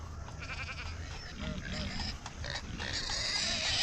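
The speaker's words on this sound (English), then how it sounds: "Huh, pig?" Pigs grunt and snuffle close by in a series of rough, irregular bursts, with livestock noise in the background.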